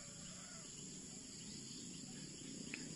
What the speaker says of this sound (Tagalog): Tumutunog na yung mga kuliglig.